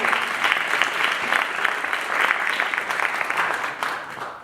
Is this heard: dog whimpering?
no